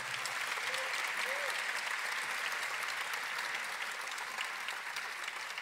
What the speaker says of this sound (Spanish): Un fuerte aplauso para nuestro nuevo maestro.